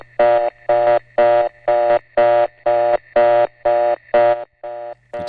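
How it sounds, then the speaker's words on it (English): A Number One Crossbar telephone exchange reorder tone pulses rapidly, about twice per second, in even buzzy beeps that repeat steadily and loud. "there's nothing like a number one crossbar reorder."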